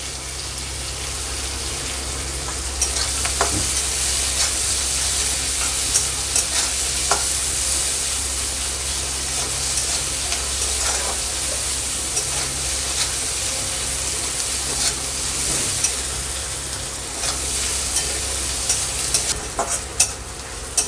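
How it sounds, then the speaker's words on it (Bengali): Onions fry with a little salt in a pan, a steady sizzle with frequent scraping stirs and clicks of the spoon, close and continuous with no talk. "পেঁয়াজটা দেখুন আমার লাল লাল করে ভাজা হয়ে গেছে।"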